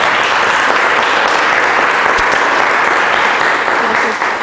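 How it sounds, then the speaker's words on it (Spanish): Loud, sustained applause from a seated audience at an academic talk on indigenous and scientific names of fungi, steady and dense clapping throughout with no voices on top. "le pido un fuerte aplauso para la gran ponente"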